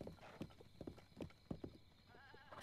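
Horse hooves clip-clopping at a gallop in the video game The Legend of Zelda: Breath of the Wild, a run of quick, fairly close thuds with a faint neigh and a steady tonal game backdrop.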